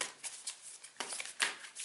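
Tarot cards being shuffled by hand, soft papery riffles and flicks in quick irregular bursts, close and quiet with no talking.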